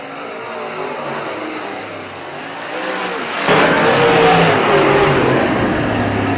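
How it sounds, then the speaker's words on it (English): Modified race cars lapping a dirt track, engines roaring in a continuous loud drone that swells sharply midway as the pack passes close and stays at full volume. "Kyle Novak officially takes the race lead on lap number 6."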